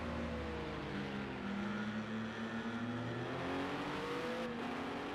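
A Porsche race car in a racing game holds a steady, loud engine note through a corner, the pitch sagging and rising again as it carries on with no one talking.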